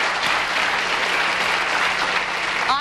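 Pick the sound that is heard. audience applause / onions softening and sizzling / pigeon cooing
audience applause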